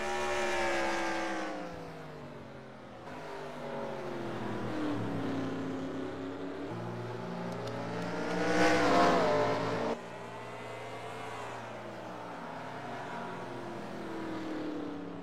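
Stock race cars circling the short track at Martinsville, engine notes rising and falling as cars pass in sequence, with a louder swell near the middle and a sustained, layered roar throughout.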